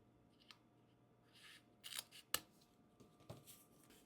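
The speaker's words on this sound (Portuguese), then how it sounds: "Vou pegar esse papel e vou cortar no meio." Scissors cut a 2.5 by 17 centimetre strip of paper in half for an amigurumi carrot vase: a few soft snips and a brief rustle, close but faint over a low steady hum.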